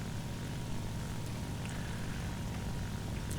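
The engine of a Ki-43 II fighter plane in War Thunder, heard at takeoff with flaps set, drones in a steady, fairly quiet low propeller hum that stays constant throughout without voices.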